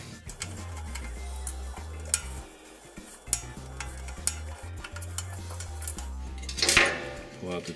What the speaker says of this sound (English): Now with our screwdriver, we need to remove the 4 screws that hold the transformer in place.